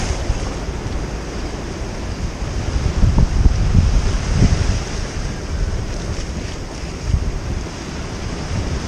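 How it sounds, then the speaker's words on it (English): Sea waves break and wash along the shore at Sliema, a loud continuous rumble that swells in the middle, with heavy wind buffeting the microphone. "As you can see, the waves are coming"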